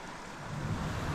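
Mountain creek water flowing in the San Bernardino Mountains, a steady broadband rushing wash, close and even, with no voices.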